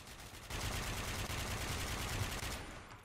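Sustained rapid gunfire in the FPS video game Warmode, a dense continuous burst of automatic shots that starts abruptly after a quieter half-second and stays loud before tapering off near the end.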